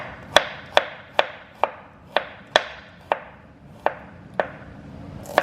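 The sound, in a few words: knife slicing radishes for fish tacos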